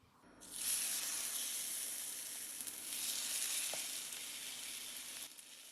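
Capsicum and onion frying in hot olive oil over medium heat, giving a continuous bright hiss that swells on as the food goes in and holds steady at moderate, close loudness before easing off at the end, with no voices.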